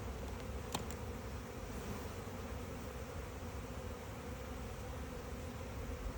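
Honey bees buzzing steadily during a beehive inspection, a dense continuous drone from many insects close by, unbroken throughout with no talk.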